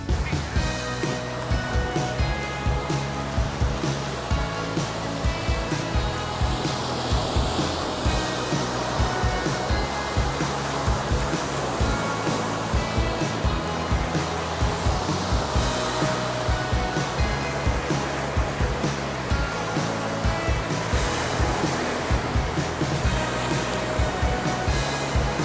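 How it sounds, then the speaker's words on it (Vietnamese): Sea waves wash steadily onto the beach at Quy Nhon in the early morning, a loud, continuous roar of surf close by with no talking. "Ngay lúc này thì mình đã có mặt ở bờ biển"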